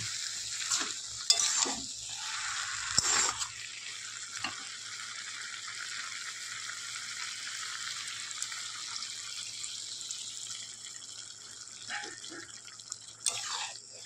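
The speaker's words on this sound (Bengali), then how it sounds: "মশলার মধ্যে আমার বাঁধাকপি আলু সবজি কষানো হয়ে গেছে। এবার পাশ দিয়ে অল্প একটু জল দিয়ে দেব।" Cabbage and potato curry sizzles in a pan after a little water is poured in: a steady, hissing crackle with sharper spattering bursts early on, settling into a quieter continuous sizzle.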